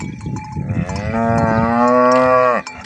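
A cow lets out one long, loud moo that rises and holds before cutting off, with faint rustling before it.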